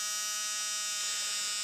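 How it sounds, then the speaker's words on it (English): A small new electric motor in a Corgi ElectroRockets toy car whirs steadily at a high pitch, with a slight shift in tone about halfway through. The whine is continuous and close, with no talk. "I've just charged up the power cell, and this, as you can hear, is all working"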